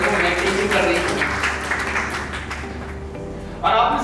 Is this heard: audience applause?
yes